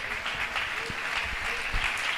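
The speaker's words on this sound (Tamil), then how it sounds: "கைத்தட்டி கர்த்தரை ஸ்தோத்திரம் பண்ணுங்க." A church congregation at a Tamil Christian service claps hands in praise. The applause is dense and continuous, with a roomy, crowded sound, and a voice is faintly present under it.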